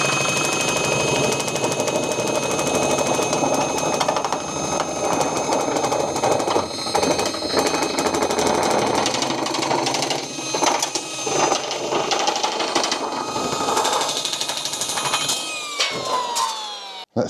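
A brand new Milwaukee power tool cuts a wavy line: a loud, continuous buzzing, chattering mechanical drone with slight shifts in pitch runs throughout before it winds down at the end.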